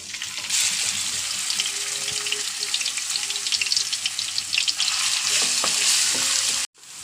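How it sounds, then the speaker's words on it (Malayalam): Garlic and ginger fry in hot oil in a pot at the start of a chicken curry, a loud, close, continuous sizzle with stirring scrapes and a few light clinks, briefly cutting out near the end. "പാത്രം ചൂടായി എണ്ണ ഒഴിക്കണം വെളുത്തുള്ളി ഇഞ്ചി ഇടണം"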